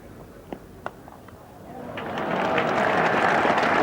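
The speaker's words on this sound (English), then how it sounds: "good applause there from his side" Crowd applause at a Test cricket match between England and Sri Lanka at Lord's, a few sharp knocks at first, then a broad wash of clapping swelling up and holding steady from a distant stand.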